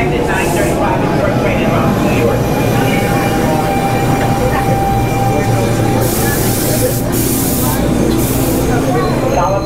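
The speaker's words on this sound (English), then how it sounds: "I boarded the NJ Transit train to New York Penn Station." Steady rumble and rattling inside a moving NJ Transit passenger train bound for New York Penn Station, with faint voices and a few bursts of hissing noise.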